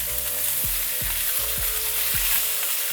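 Chilean sea bass fries in a pan with a steady, loud sizzle, while a few low clunks from the pan break through at irregular moments.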